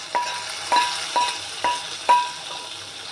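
Fried onions going into a pot of nihari and being stirred: five evenly spaced spoon scrapes and knocks against the pot over a faint steady background hiss, close and moderate, no talk.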